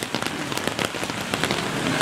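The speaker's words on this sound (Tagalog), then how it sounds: "Ang lakas ng ulan dito." Heavy rain pours down at night in Hanoi, a dense, loud, close patter of drops drumming steadily on surfaces.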